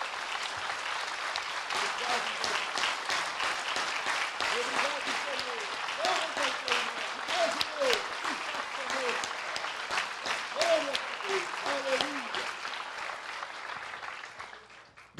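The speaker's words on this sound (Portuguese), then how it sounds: "Vamos aplaudir a Jesus" Sustained applause from a church congregation during a Portuguese-language evangelical service, dense clapping filling the room for about fourteen seconds with voices calling out over it, then cutting off sharply.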